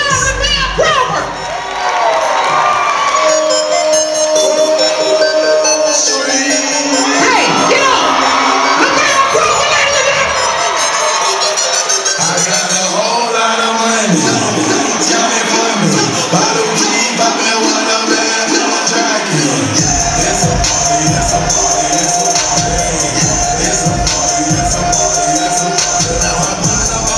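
A packed homecoming comedy show crowd at Jackson State erupts for comedian Lavell Crawford, loud sustained cheering, whooping and clapping that rolls on for the whole stretch, with shouted voices and music rising through it.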